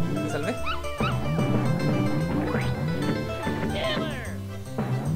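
A cartoon puppy in Earthworm Jim 2 yips and whimpers in short bursts over busy game music, with crashes and sound effects mixed in; a person talks over the gameplay.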